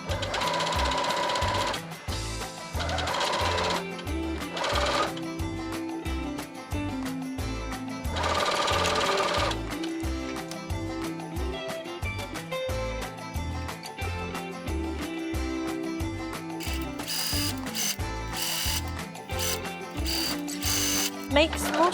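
Sewing machine top-stitching around the bust cups of a tiered cottagecore dress, running in steady rhythmic bursts with brief pauses between passes, loud and close.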